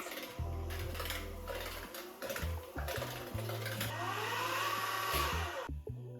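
A mixer whirs on low through brownie batter made with melted butter, flaxseed eggs, sugar and vanilla, its motor humming steadily while the beaters clink and knock against the bowl.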